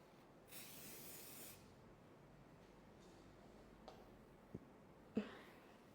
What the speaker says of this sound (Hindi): shine spray